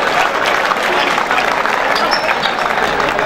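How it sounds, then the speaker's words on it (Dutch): Dense, steady applause from a crowd at the official opening of a sports campus, greeting basketball players. The clapping is loud and sustained and fills the whole stretch without letting up. "Applaus voor de basketballers."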